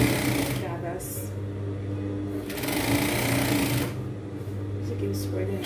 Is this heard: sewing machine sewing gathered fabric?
yes